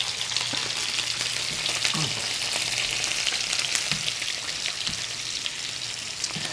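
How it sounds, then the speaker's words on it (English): Steaks fry in butter in a pan, giving a steady, close sizzle and crackle with occasional soft scrapes and spatters as they are basted. "So you're gonna baste the steaks. Yeah, it's really easy. In the butter."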